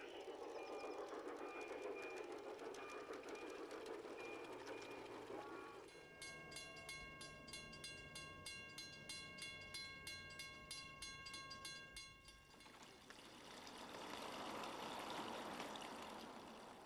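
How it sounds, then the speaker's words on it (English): An LGB garden-scale model train runs outdoors, its rolling rumble steady under a faint outdoor ambience, with a rapid regular clicking and a sustained tonal whistle-like tone in the middle stretch before the running noise swells again. "the Snow Creek Railroad rolls through some of the most breathtaking scenery around"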